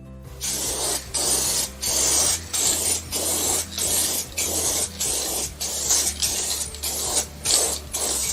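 INVENTIV clear aerosol varnish sprays in a run of short, rapid hissing bursts, each about half a second long with brief gaps between them, loud and close with no talking over it.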